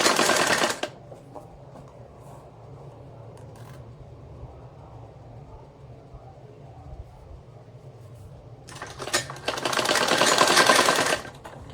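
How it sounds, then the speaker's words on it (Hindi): A sewing machine stitches salwar fabric in a steady, quiet mechanical run that lasts several seconds, with a louder, denser burst of rapid stitching near the start and again toward the end. "इस तरह से सिलाई लगाते हुए नीचे तक ले जाऊंगी मैं इसको"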